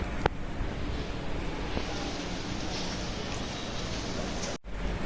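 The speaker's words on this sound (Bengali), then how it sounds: "বৃষ্টি মূলত টানাই পড়তেছে এখন একটু কম" Steady rain falls outdoors in a continuous, even hiss of moderate loudness, with a brief dropout near the end and no talking.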